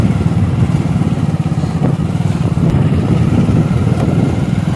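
Single-seat motorcycle engine on a rainy monsoon ride, a loud continuous rumbling drone with a steady throbbing rhythm and no talking.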